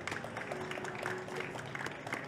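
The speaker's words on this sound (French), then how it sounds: "on va l'applaudir très fort" Applause for a volunteer at a hypnosis show comes through as a faint, distant patter of clapping, with soft voices beneath it.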